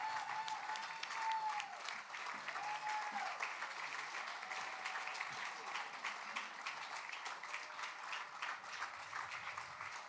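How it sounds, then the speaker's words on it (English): Sustained audience applause fills the room at a cultural talk event, dense steady clapping that carries on for several seconds, with a voice faintly speaking over it. "Please, one more round of applause, folks."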